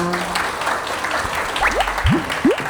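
An audience at a hepatitis health lecture applauds steadily for two speakers, a dense patter of clapping, while a few rising electronic tones chirp near the end.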